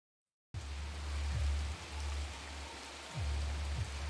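Steady rain hisses as dense, even noise during a football video game, with a low rumbling undertone that rises and falls. It is faint overall and starts abruptly after half a second of silence.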